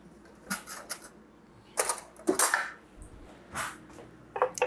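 A spoon scrapes and knocks against a dish while serving an air fryer baked potato, in several short, loud, close bursts separated by brief pauses.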